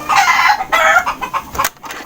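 A chicken clucks and squawks loudly up close in several short, choppy bursts.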